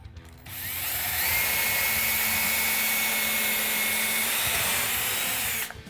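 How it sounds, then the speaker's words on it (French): A power drill with a bit pre-drills holes through door trim moulding, one loud, steady whirring run lasting several seconds up close, starting and stopping abruptly, with no voices. "je vais prendre une drill avec une mèche et je vais venir pré-percer des trous"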